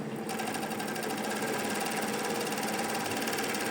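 A closed coverstitch sewing machine with a bias binder attachment stitches bias binding on cotton scrap, a steady, fast mechanical hum and clatter running evenly throughout, close and moderately loud, with no talk.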